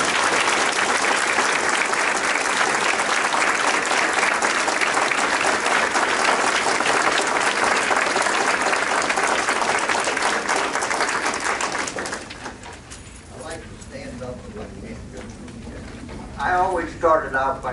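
Sustained applause from an audience welcoming a guest speaker, a WWII veteran named Paul Andert, dense and steady for about twelve seconds before fading into scattered claps and room murmur.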